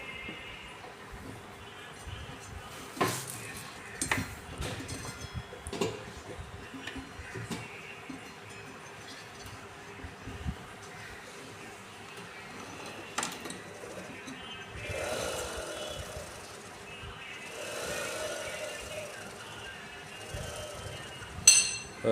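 An IFB front-load washing machine running after its belt was refitted, with a steady mechanical hum and irregular clinks and ticks, close by and moderately loud, with a brief voice now and then.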